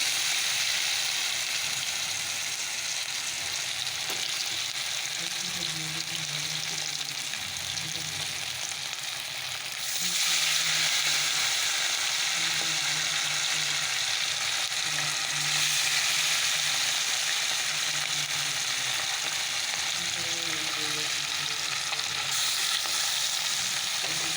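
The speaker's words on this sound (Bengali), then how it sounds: "চলো অল্প ভেজে নিই মাছগুলো" Steady, loud sizzling of foli fish frying in hot oil, a continuous crackling hiss with occasional scraping stirs, no voices.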